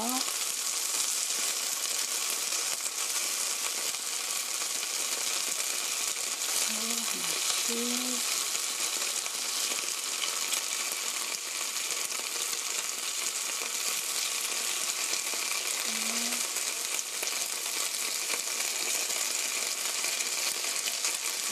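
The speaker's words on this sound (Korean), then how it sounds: "하나씩 튀기지 않고 적은 기름으로 굽는 거예요." Steady, dense sizzling of chicken pan-frying in a little oil, continuous and fairly loud throughout, with a few faint low tones in the background.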